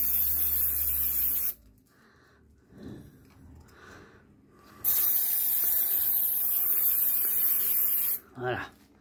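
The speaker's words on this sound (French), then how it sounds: "Donc je vais nettoyer en contact et je vais retester la clim pour voir si ça fonctionne." Contact cleaner sprayed onto the air conditioning pressure switch of a Renault Clio 3 phase 2 dCi, two loud close hissing bursts separated by a quiet gap, then a brief puff near the end.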